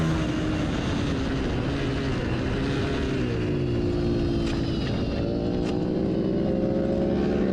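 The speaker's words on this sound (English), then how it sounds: "I assume that was my first ever false neutral that I've ever had" Racing motorcycle engine at a track race at Blackhawk Farms, revving loud and continuous after a missed shift into false neutral, with pitch sweeping up and down throughout.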